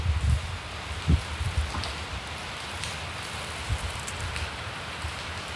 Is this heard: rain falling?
yes